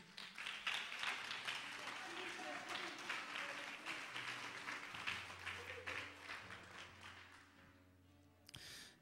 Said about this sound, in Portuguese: bata palmas para Jesus.